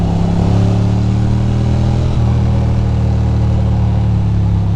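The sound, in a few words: Ducati Monster motorcycle riding at night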